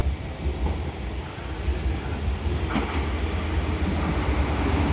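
The Yufuin no Mori sightseeing train rumbles steadily past on the rails, a continuous heavy low roar with faint clatter that grows slightly louder toward the end, with no voices.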